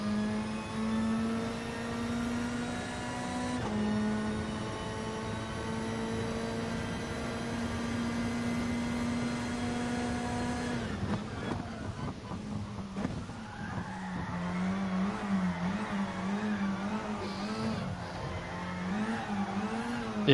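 A race car engine in Gran Turismo Sport revs hard and steadily through the gears, then tires squeal and skid through corners as the pitch wavers, loud and close with no talk.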